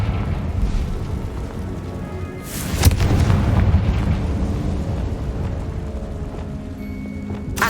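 A Confringo blasting spell goes off in Hogwarts Legacy as a single deep boom partway through, followed by a rumbling, debris-like tail that fades slowly under low ambient game sound.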